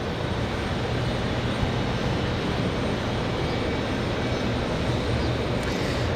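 A plane taking off at Raleigh Durham International Airport in windy conditions, heard as a steady, loud broadband engine roar that holds evenly throughout with no talk over it.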